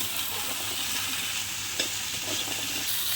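Shrimp fry with vegetables and crushed garlic in a pan, a loud, dense, continuous sizzle with faint scraping from stirring and one small clink partway.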